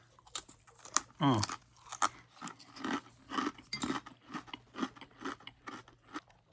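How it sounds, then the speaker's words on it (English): Crunchy green olive crackers being bitten and chewed close up, with a loud crisp crunch followed by a steady run of smaller chewing crunches. "Let's see if I can pause long enough from eating these green olive crackers that I'm kind of obsessed with."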